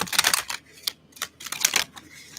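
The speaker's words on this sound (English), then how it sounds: "I'm going to do another shuffle." Tarot cards shuffled by hand in a quiet indoor setting, giving several quick, crisp bursts of riffling and flicking with short pauses between them, close and fairly loud.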